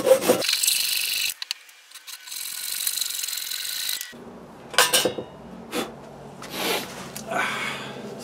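Hand tool scraping and rasping excess green wood away around the screw holes of small carved coffee scoops, a sustained stretch of cutting followed by several short separate strokes, close up with no talking.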